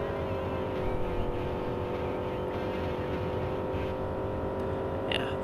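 A race car engine drones at a steady high pitch in a NASCAR video game, a constant loud whine with no gear changes, and a brief higher blip near the end.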